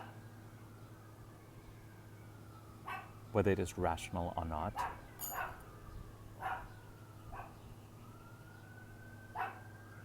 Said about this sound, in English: It's a neighbor's dog, I can't control it.